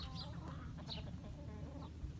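Chickens near a new shelter give a few faint, brief clucks over a low steady background hum.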